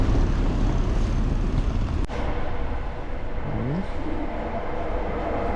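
A Metro train rumbles steadily at Newcastle Central Station, with continuous wheel and rail noise, a sharp click partway through and a brief rising whine.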